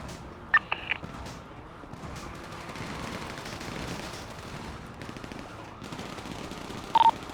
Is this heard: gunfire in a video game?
yes